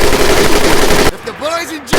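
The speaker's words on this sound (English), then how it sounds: "The other will fire the weapon." Machine gun fire in the Medal of Honor Pacific Assault video game, a loud rapid burst of shots lasting about a second, then a quieter stretch of game sound before a brief return of fire.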